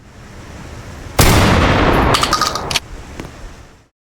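A shotgun fires in a horror video game: one loud, close blast with a rolling tail that quickly fades to near silence.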